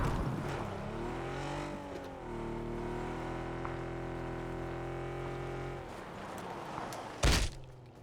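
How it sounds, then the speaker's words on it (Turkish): A fast car in the video game PUBG roars through a sustained engine drone that rises and shifts pitch, loud and close, ending with a sharp thump near the end. "Tabi araba hızlı araba ya ne yaparsın?"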